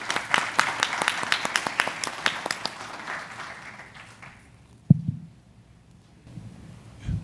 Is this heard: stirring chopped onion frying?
no